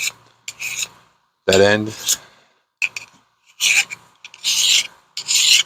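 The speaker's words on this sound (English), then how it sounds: "a coarse mill bastard file, and the other one's another bastard file, mill file, bastard file" A coarse mill bastard file rasps across the end of a metal piece in several separate scraping strokes, close and fairly loud, with someone briefly speaking between them.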